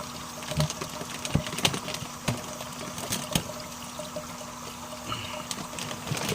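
Pond water is poured into a container holding red tilapia fry to acclimatize them, giving a close trickling, splashing stream broken by a few sharp knocks and drips.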